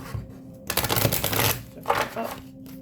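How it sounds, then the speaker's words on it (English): Tarot cards are shuffled by hand in a quick riffling burst, a crisp papery flutter up close with a second shorter burst after a brief pause. "I'm going to shuffle them this way."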